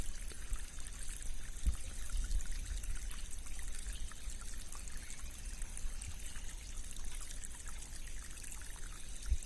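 A stream of water flows and trickles steadily in a natural setting, a continuous close wash of splashing and dribbling that stays even and alone for the whole stretch, with no voices.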